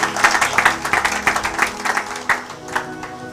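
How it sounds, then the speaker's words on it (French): Church congregation applauding together in praise, a dense, steady wave of many hands clapping with rhythmic peaks throughout, fading slightly near the end. "Acclamons pour la gloire de notre Dieu"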